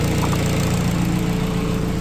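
A swapped Nissan SR22VET engine idles in a Mazda RX7 during coolant bleeding, giving a steady, close, low mechanical hum with an even pulsing rumble and no change in revs.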